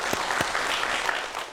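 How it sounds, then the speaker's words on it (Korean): A short burst of steady audience applause after a magic trick at a science-themed magic show, a dense, even patter of many hands clapping with no voices. "박수 주시기 바랍니다."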